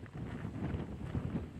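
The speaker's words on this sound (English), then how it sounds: "Man, it's windy." Steady low wind rumble buffeting the microphone on a hike at a bird sanctuary, continuous and fairly loud, with no voices.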